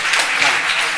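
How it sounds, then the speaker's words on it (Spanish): A brief burst of audience applause at a Chilean ministerial event, dense and fairly loud for about a second. "Les pido un fuerte aplauso."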